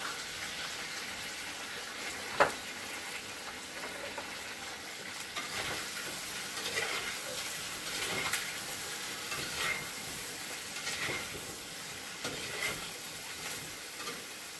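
Food frying in a pan with salt and turmeric gives a continuous soft sizzle with occasional stirring scrapes and one sharp knock, close by and with no voices.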